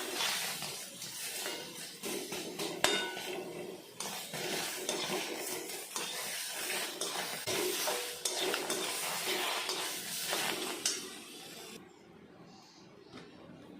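Ingredients being dry roasted in a pan, with continuous scraping and stirring of a spatula against metal, close and fairly loud, then a sudden drop to quiet near the end.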